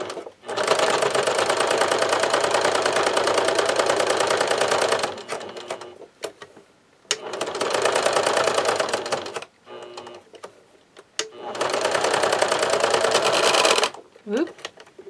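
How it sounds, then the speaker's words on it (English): A sewing machine top stitches along a finished edge of a lap piece for a medical device belt, running in three loud, steady bursts of rapid stitching separated by short pauses, with faint handling noise between runs. "I'm going to top stitch along this finished edge on either side"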